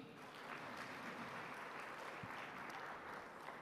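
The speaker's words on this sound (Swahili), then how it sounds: "Naomba tuwapigie makofi" Scattered clapping from the audience at a presidential launch of an African food forum at State House in Dar es Salaam, a faint, distant wash of applause holding steady throughout.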